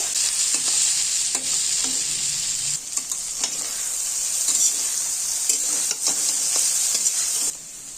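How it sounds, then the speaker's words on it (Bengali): Fried potatoes and soybean chunks stirred with spices in a pan: a steady, loud sizzle runs throughout, broken by repeated scraping and knocking strokes of the stirring spoon, with no talk. "এবার দিয়ে দেওয়া হচ্ছে ভেজে রাখা সয়াবিনগুলো এবার মশলার সাথে ভালোভাবে কষানো হবে"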